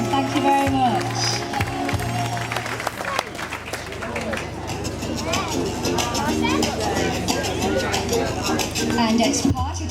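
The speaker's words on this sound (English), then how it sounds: "Lovely big round of applause for Jen." Audience applause and clapping at a vintage fashion show, a dense crowd noise running steadily under background music and a few voices.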